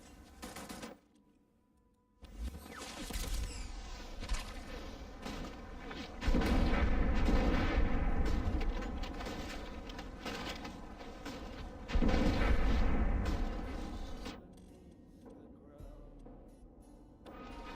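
Repeated heavy gunfire from a weapon in the video game Starfield, with loud sustained bursts and booming swells that pause briefly and return, while a voice talks over the shooting.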